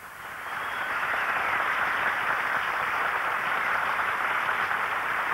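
A studio audience on a Spanish TV game show applauds its three contestants in a broad, steady wash of clapping that swells in during the first half-second and holds evenly, with no voices over it.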